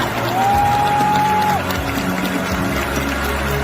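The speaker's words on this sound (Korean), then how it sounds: "한 번 더 뜨거운 박수로 환영해 주시기 바랍니다." A crowd applauds steadily and loudly throughout, with a brief high whistle-like tone near the start.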